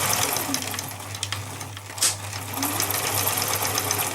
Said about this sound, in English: just reverse stitch over a little bit there at the end